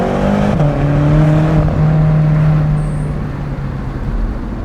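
A BMW M6 with a twin-turbo V8 drones steadily while driving, a loud sustained engine hum that shifts pitch briefly early on, then holds a smooth tone with road noise beneath.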